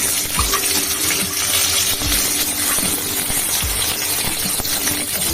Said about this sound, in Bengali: পটল গুলা আর এই যে কাঁচা লঙ্কা এগুলোকে ভিজে নেবো আগে